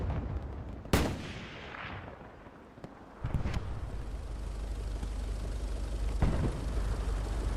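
A Stuart tank fires shells in a World War II battle game set at Omaha Beach, with loud sharp cannon blasts at intervals and distant booms echoing over a low rumbling battlefield background.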